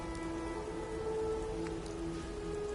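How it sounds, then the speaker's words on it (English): Steady rain falls in the video game Fallout 4, a dense, even hiss that fills the whole stretch with a faint tonal hum running underneath and no voices. "Just thinking how wonderful it'd be to get out of this infernal rain."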